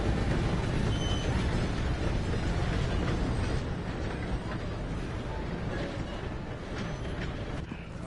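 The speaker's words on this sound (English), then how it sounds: "Gotta beat that train" A train rumbling past in the western game Red Dead Redemption 2, a loud, continuous, broadband roar that stays steady and slowly eases off.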